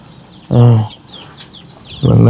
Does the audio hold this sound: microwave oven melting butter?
no